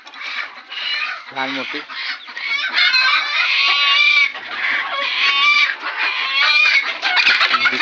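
A flock of about two hundred free-range desi chickens clucking and squawking continuously, fairly close, with a rooster crowing once partway through and brief speech early on.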